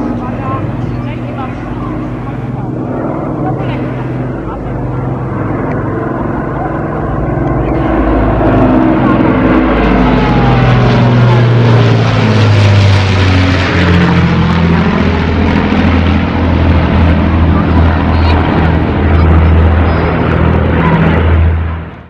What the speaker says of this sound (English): we just had a Avro Lancaster flyby